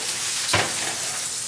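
Bacon frying in a pan gives a steady, dense sizzle throughout, with one brief louder scrape or stir near the start, close up and with no voices.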